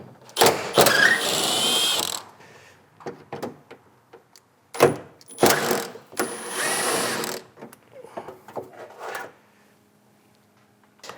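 A ratchet wrench removes two 8mm bolts from the intercooler shield of a 2015–2020 Subaru WRX, giving close, rapid clicking bursts separated by pauses, with brief handling noises between them.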